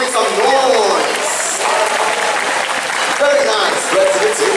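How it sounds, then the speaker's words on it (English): A crowd of supporters claps and stomps at a team game event, a loud continuous roar of applause over faint voices. "All you have to do is clap your hands and stomp your feet."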